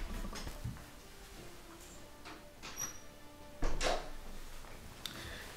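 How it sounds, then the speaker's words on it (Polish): An indoor room door shut quickly by hand, heard as one sharp thud with a rattle in the middle of quiet room tone, preceded by a few faint shuffles and clicks. "Czekajcie, tylko drzwi szybko zamknę."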